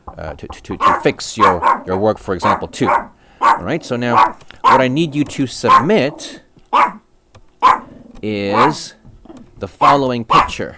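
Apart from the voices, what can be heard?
dog barking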